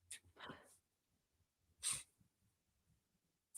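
A small pet cat gives a couple of quick sneezes, short sharp bursts separated by soft breathing and near silence, close and quiet indoors.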